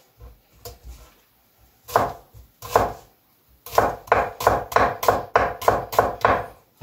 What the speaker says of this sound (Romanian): Acum o să tăiem ceapa. Ceapa o să tăiem solgișori.